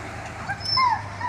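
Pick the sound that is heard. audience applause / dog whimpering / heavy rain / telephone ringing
dog whimpering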